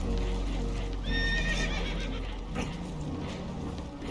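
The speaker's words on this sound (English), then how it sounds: "Horses are spooked" Spooked horses whinny in panic aboard a damaged boat in the Red Dead Redemption 2 video game, one shrill wavering neigh rising over a dense rumbling background of water and hooves.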